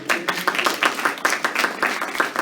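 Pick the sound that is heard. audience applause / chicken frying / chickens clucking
audience applause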